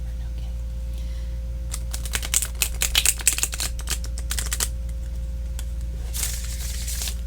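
A tarot card deck is riffle shuffled, giving a close burst of rapid papery clicking and fluttering that fades, then a second shorter flurry, all over a low steady hum.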